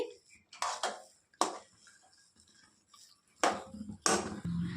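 Spoon scraping and knocking against a pan as upma is gently mixed, a few short metallic clinks and scrapes up close, with someone speaking between them.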